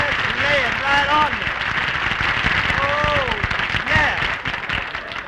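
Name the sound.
studio audience applause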